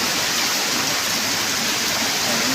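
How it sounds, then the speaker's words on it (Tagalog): Flash floodwater from Typhoon Carina pours over a dike in San Isidro, Montalban, making a constant loud rushing roar of water with no pauses. "Umapaw na doon sa dike yung ano."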